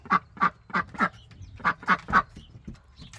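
A duck in a dog kennel quacks about eight times in a row, each call loud and close, with short gaps between them.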